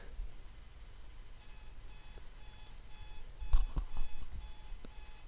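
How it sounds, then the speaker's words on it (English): An alarm clock rings faintly in the background, a steady run of repeated beeping tones behind low room noise, growing a little louder toward the end. "That was my alarm clock."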